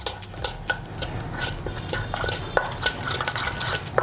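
A spoon stirs a spice mix with ginger garlic paste for a fish fry, making steady clinking and scraping against the bowl in close, repeated strokes with no talking.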